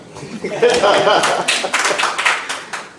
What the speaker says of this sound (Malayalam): ഇതൊക്കെ കൈയടിക്കാം